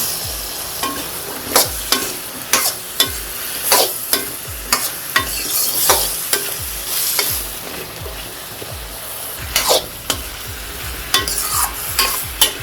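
Radish pieces sauté with softened tomatoes in a pan, loud close scraping strokes of a spatula repeating about once a second over a continuous sizzle.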